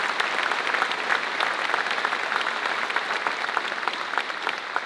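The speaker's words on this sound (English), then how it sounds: "I want to give you both a rounding applause" Steady, dense applause from an audience in an aircraft hangar at Andrews, honoring a retired Space Force commander, continuous and fairly loud throughout with no talking.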